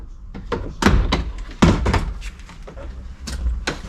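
Plastic retaining clips of a Jaguar XE interior door card popping free as the panel is pried off, a series of close, sharp thunks and snaps at irregular intervals.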